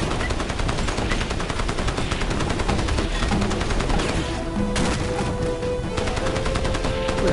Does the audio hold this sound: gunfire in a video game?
yes